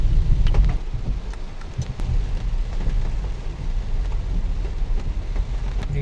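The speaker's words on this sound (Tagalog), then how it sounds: "ganong biglaang buhos ng ulan" Heavy sudden rain pours down in a steady broadband wash, with low rumbling swells that suggest thunder under the downpour on a city street, continuous and fairly close throughout.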